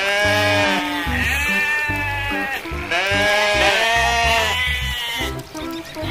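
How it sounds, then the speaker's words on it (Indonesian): Toy sheep on a trailer truck bleat repeatedly in loud, wavering cries, several calls overlapping in quick succession against a constant electronic hum. "Ini domba."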